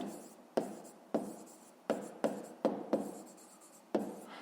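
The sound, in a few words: writing by hand on paper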